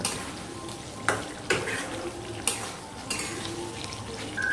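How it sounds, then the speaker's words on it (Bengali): A spoon stirs ghee into a Bengali curd and pointed gourd curry in a pan over a gas flame, with a steady sizzle broken by several sharp scrapes and clinks of utensil on metal, no talking. "এখন এই ঘিটা আমি দই পটলের সঙ্গে ভালো করে মিশিয়ে দেব"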